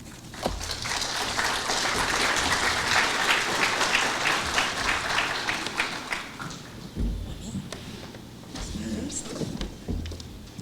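An audience at a seminar applauds a professor being welcomed, dense clapping that swells quickly, holds for several seconds and then thins out into scattered claps, with talk beneath it.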